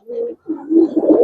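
A female racer pigeon coos at close range in a short run of soft, throaty calls, with a brief pause between the first call and a longer rolling coo.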